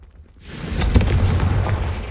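A Confringo blasting spell in Hogwarts Legacy bursts in with a rising whoosh and a loud booming impact, trailed by a rumbling, crackling tail that stays strong to the end.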